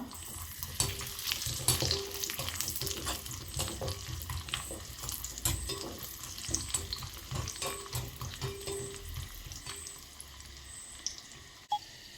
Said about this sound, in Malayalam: നെയ്യുടെ ചൂടായി വന്നിട്ടുണ്ട് അതിലേക്ക് കുറച്ച് കാഷ്യൂ നട്ട്സ് ഇട്ട് കൊടുക്കാം കുറച്ച് കിസ്മിസ് ഇട്ട് കൊടുക്കാം